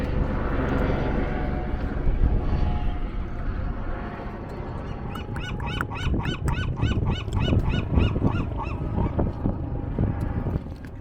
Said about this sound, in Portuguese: vou voar o drone aqui, é legal também